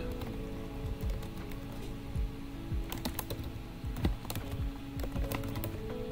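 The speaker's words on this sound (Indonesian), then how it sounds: "Keyboard." Computer keyboard typing simulated by Rustyvibes, a steady run of close, crisp key clicks at an uneven pace, with occasional faster bursts, heard alone without talk.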